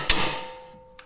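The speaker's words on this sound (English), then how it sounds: "Some people call this a hammer." A hammer strikes once, sharp and close, to drive bolts through the strut of a 2010-2015 Chevrolet Camaro in a garage. A faint ringing decay follows, and a small metallic tap comes near the end.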